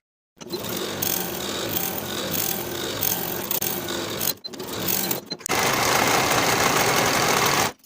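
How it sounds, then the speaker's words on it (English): A sewing machine stitches the outer seam of pajama pants with a 3/8 inch seam allowance, a loud, close, steady mechanical whir that briefly stops twice, then resumes at a slightly higher pace to the end. "we'll sew this outer edge from top to bottom with a 3/8 inch seam allowance"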